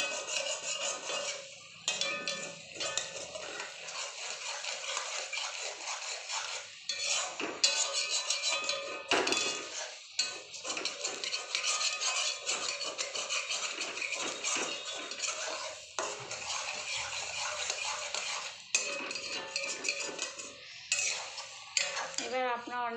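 A utensil scrapes and stirs steadily through saved milk cream in a kadai as it cooks down into ghee, a continuous close metallic scraping with occasional clinks against the pan.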